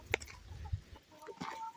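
Chickens cluck softly nearby while eating greens, a few short bursts mixed with pecking and light rustling, no voices.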